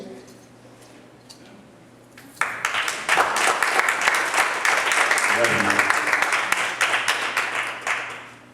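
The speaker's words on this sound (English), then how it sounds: "Let's give a round of applause." After a few quiet seconds with faint sound, an audience at a gospel program bursts into loud, sustained applause and clapping that continues to the end.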